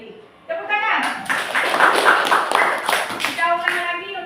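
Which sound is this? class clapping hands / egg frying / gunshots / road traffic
class clapping hands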